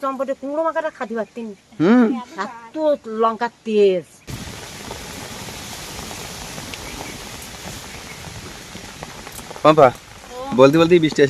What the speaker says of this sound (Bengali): শুধু বৃষ্টি হচ্ছে না গো দেখো ঝুড়ো হাওয়া সাথে কিন্তু হচ্ছে